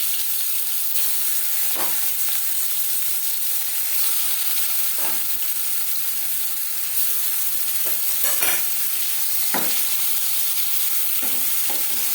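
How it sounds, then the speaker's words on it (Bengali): Fish pieces shallow-frying in oil for macher jhal, a steady loud sizzle and crackle close by, broken every few seconds by the scrape of a spatula stirring and turning. "পরের মাছ একইভাবে ভেজে নেব।"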